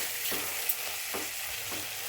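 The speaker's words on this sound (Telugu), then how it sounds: "మసాలా ఈ కలర్ వచ్చే వరకు బాగా వేయించుకోవాలండి" Masala paste frying in a pan, a soft continuous sizzle with a few gentle stirring strokes at regular intervals, close and fairly quiet, with no voices.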